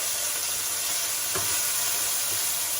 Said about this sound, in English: I'm just stirring everything around, and the anchovies will melt.